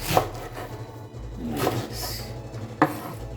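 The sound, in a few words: knife cutting okra into big pieces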